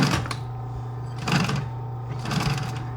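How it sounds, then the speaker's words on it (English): A sewing machine stitches directly over the seam of a handmade Tudor shoe, with three bursts of motor whir and rapid needle clatter separated by a steady low hum, heard close and clear. "I'm going to sew directly over that seam"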